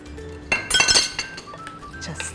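Lemon juice stirred into a chicken marinade in a glass bowl: a short run of bright clinks and scrapes from the utensil against the glass, loudest in the middle and then easing off.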